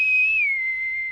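A single loud, close whistle blown in one sustained shrill tone that dips slightly in pitch partway through and holds to the end, alone with no talk.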